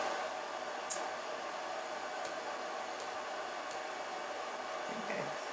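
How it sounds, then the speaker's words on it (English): A laser engraver's cooling fan whirs steadily with a constant airy hiss, a few faint clicks and squeaks above it and no voices. "This one, the fan is on all the time"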